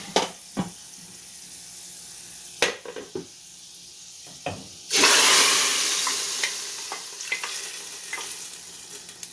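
A hot tadka is tipped into a pot of daal and bursts into a sudden loud sizzle that fades slowly, after scattered clinks and scrapes of utensils with the flame off.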